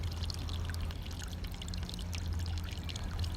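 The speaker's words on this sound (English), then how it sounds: "I added a jet in each spot to push water into the centre of the pond" A pond circulation jet pushes water toward the centre of the pond, giving a steady, soft pouring and bubbling wash with no voices.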